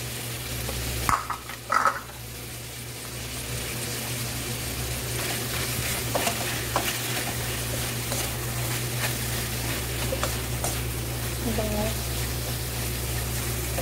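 Sliced mushrooms sizzle in a pan while carbonara is being cooked, a steady close frying hiss throughout with a few stirring clatters near the start and a voice talking faintly over it.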